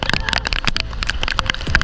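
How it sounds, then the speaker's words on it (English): Rain falling on a bank holiday Easter weekend in the Australian Outback, a dense close patter of drops crackling continuously across the short stretch with no voices. "and it's raining."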